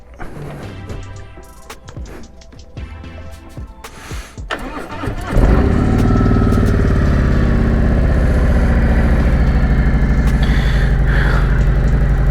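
A 2020 Harley-Davidson Road Glide Special fitted with a Thrashin Supply riser starts up with a short crank and clatter, then settles into a loud, steady, deep engine rumble that holds close by without talk.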